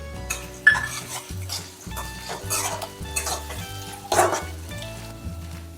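Chopped vegetables and green chillies for veg Manchurian being stir-fried in a pan: a moderate sizzle under repeated clattering spatula strokes against metal, uneven and close, with musical tones running in the background.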